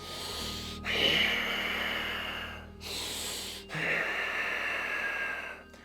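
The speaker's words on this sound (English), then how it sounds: "the Ujjayi breath is imagining it this way: in through the nose and out through the nose" Two long, slow breaths drawn in and pushed out through the nose, each with a soft hissing, ocean-like rasp, close and unhurried.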